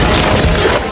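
A chandelier is smashed to pieces in one loud, dense crashing burst of breaking that fills about a second before it thins out.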